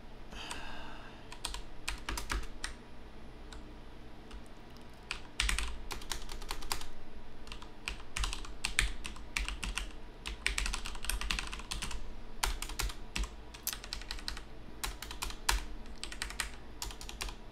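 Computer keyboard typing, close and clear, with long irregular runs of clicking keys broken by brief pauses, no speech throughout.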